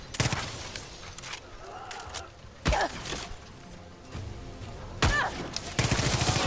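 Gunfire from a weapon in the video game Far Cry 6 rings out in several loud, sharp bursts spaced across the stretch, set against a busy background of game noise.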